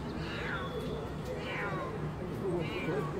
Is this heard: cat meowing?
yes